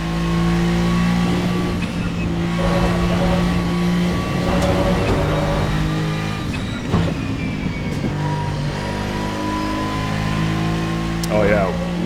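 Adonis V8 GT3 race car engine in Assetto Corsa, droning and revving through gear changes with steady harmonic tones, continuous and loud, as a driver talks over it.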